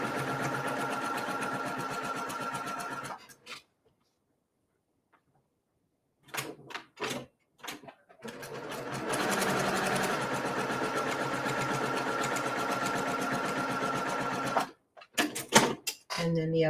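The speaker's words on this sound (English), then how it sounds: "I'm going to sew on the line." A sewing machine stitches along a drawn line on quarter-square triangle fabric, running in a steady close whir, then stopping for a few seconds, then running again briefly with short bursts and handling clicks.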